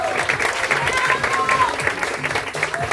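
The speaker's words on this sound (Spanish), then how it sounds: "Más fuerte un aplauso para Cato Aranera." An audience applauds at the grand final of an improvisers' competition, clapping and cheering under an announcer's voice that keeps talking, the crowd noise steady and fairly close.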